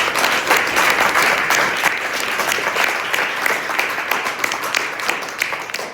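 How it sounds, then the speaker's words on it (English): An audience gives a sustained round of applause at an intactivism gathering, dense steady clapping filling the room from start to finish with no break. "let's give us all a round of applause for being here and caring"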